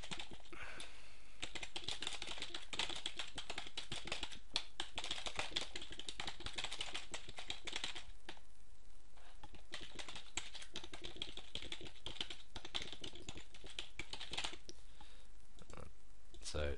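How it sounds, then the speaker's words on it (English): A computer keyboard in a home office, typed on steadily to enter a poll question, a fairly quiet run of continuous key clicks lasting throughout. "You type in your question."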